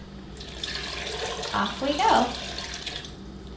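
Water runs and splashes as it is poured into a Vitamix blender over apples, a steady pour swelling briefly louder midway, with a short spoken phrase nearby.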